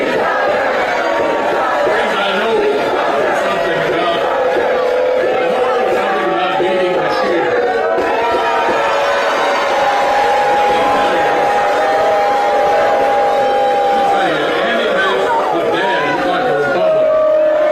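A large audience boos Mitch McConnell, a dense, steady crowd roar mixed with shouting voices that holds at full volume throughout without a break.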